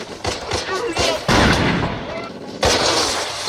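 Gunfire from a World War II battle in a Band of Brothers episode: several loud, sharp shots and heavy blasts crack in quick succession, with voices underneath.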